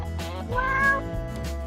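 A cat lets out a single close, clear meow that rises and falls, heard alone.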